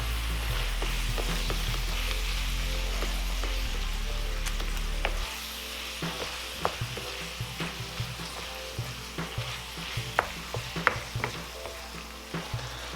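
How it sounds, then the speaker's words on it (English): Ground beef browns in a frying pan for sloppy joes, a continuous close sizzle with a low hum early on, then scattered clicks and scrapes of stirring. "We're just going to cook it until all the meat is brown."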